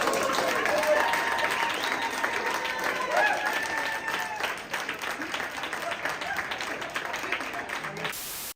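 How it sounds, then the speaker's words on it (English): Debate audience cheering and applauding: a crowd's clapping and shouts fill the room, steady and moderately loud, with a voice talking over the noise for much of its length. "6 of the candidates raised their hands to cheers and applause from the audience"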